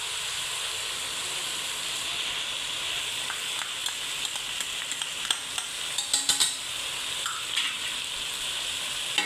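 Garlic frying in a pan for white chicken karahi, a steady bright sizzle and hiss with scattered crackles and stirring scrapes, close and continuous with no voices.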